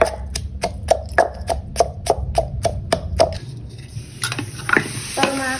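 A pork bone mixture is dry-roasted in a pan, with a quick regular run of sharp scraping stir strokes, then softer irregular scrapes over a light sizzle, close by.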